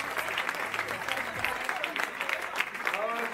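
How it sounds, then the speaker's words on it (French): Steady applause rises from an audience at a live comedy show in Pointe-Noire, dense continuous clapping with a voice talking over it. "On applaudit encore pour Bruno Alves, s'il vous plaît, mesdames et messieurs"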